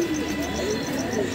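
Pigeons at a home loft, a rust-colored female among them, give soft low cooing that runs steadily through the short stretch, close by over a faint background hiss.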